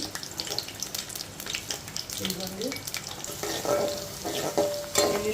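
Spices for tempering a tomato pachadi crackle and sizzle in hot oil, a busy steady frying hiss with sharp pops, while someone speaks briefly over it.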